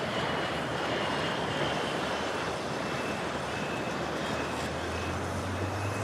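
A quiet Vertical Aerospace aircraft passes overhead at an airshow, its soft, even broadband whoosh steady and distant beneath general crowd and wind ambience, with no talking.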